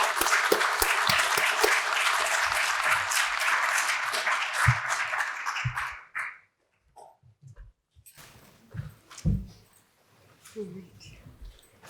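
Audience applause for a keynote speaker at a university centennial conference in Paris. A dense, loud burst of clapping fills the room for about six seconds and then stops abruptly. Scattered small noises and brief speech follow.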